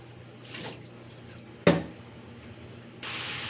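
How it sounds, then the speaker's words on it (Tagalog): Water is poured into a pot of chicken as it cooks. Faint clatter comes first, then a sharp clank, then a steady, hissing pour that goes on to the end. No one speaks. "Lalagyan ko ngayon guys ng tubig."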